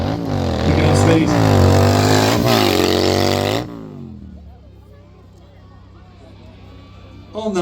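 A motorcycle engine revs hard during a front-wheel stunt at an outdoor motor show at Leeds Castle, Kent, a loud pitch-swinging roar that cuts off sharply, leaving quieter crowd murmur and commentary.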